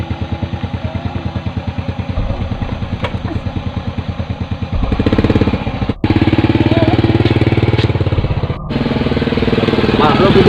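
An ojek motorcycle taxi's engine idles and putters steadily at night, close and loud, with a rapid chugging rhythm that swells partway through as it revs, while people talk over it.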